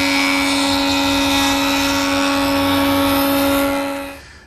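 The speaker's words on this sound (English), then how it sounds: "one cleanup pass at the joiner on that freshly sawn edge" Woodworking jointer making one cleanup pass on a freshly sawn board edge for a Morris chair project, a loud steady high-pitched whine with strong tonal hum that runs continuously, then winds down at the end.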